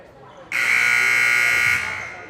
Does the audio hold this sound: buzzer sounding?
yes